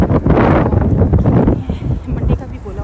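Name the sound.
strong storm wind blowing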